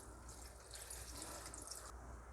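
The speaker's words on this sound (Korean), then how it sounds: "그리고 물을 부어주세요." Water pours steadily over young radish greens salted in a basin, a continuous splashing rush that runs without pause, close and moderately loud, with no voices.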